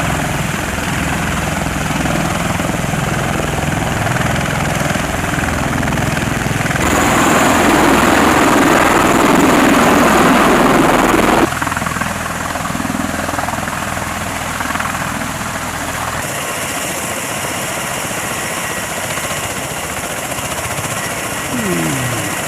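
A military helicopter flies over the US-Mexico border, its steady, loud rotor thrum filling the whole stretch and swelling briefly as it passes closest.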